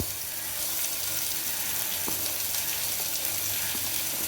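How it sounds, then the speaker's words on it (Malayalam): Onion sautéing in hot oil, a loud continuous sizzling hiss with a few faint clicks and taps scattered through it, heard up close. "സവാള ചേർത്ത് കൊടുത്തിട്ട് നമുക്ക് നന്നായിട്ടൊന്ന് വഴറ്റാം."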